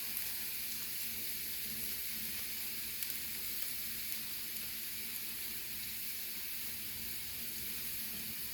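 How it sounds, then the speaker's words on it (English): Beef patties frying in a pan give off a steady, even sizzle that holds at the same level throughout, with no voices over it. "So I'm going to make some patties."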